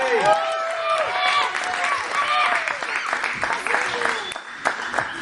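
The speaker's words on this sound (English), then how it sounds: "So, let's give Jamie a round of applause and welcome to the show." A studio audience at a live interview claps steadily for several seconds to welcome a guest named Jamie, with the crowd noise loud and close and a host's voice talking over the applause.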